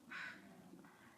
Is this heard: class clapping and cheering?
no